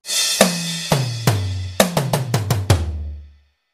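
A drum kit plays a combined beat at normal speed: tom hits stepping down in pitch, a quick run of strikes, then a deep floor tom finish ringing out, all close and unaccompanied.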